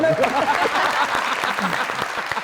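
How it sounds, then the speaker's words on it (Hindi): Studio audience applause on a showbiz talk show, loud and continuous clapping that starts under a voice and then carries on alone. "वेरी नाइस, तालियां।"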